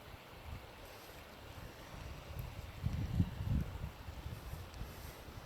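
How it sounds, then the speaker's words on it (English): Water rushes at Inks Lake State Park in Texas, a faint, steady wash with soft low swells and some wind buffeting on the microphone. "I really love the sound of water rushing."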